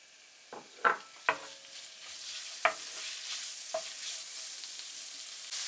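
Pork stir-frying in an oiled pan over high heat for yakisoba: a soft, steady sizzle with a few sharp spatula clacks against the pan, fairly quiet, no voices.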